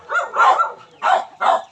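A dog barks four times in quick, uneven succession, fairly close and loud.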